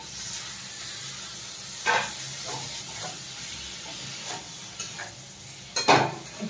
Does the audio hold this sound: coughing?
no